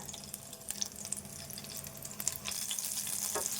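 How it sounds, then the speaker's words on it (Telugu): Dried red chillies fry in a pan for a sesame and bottle gourd chutney, a soft, continuous sizzle with scattered small crackles, faint and close. "ఈ మిర్చి ఇట్లా వేపితే సరిపోతాయి"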